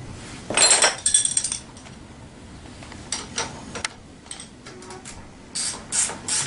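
Metal tightening clicks of a nut being run down on a bolt during assembly of a Tao Tao 90 dirt bike, close and intermittent: a loud ratcheting burst near the start, then scattered lighter clicks and rattles.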